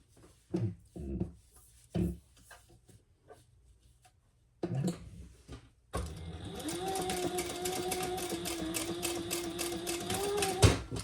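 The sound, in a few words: sewing machine stitching fold over elastic seam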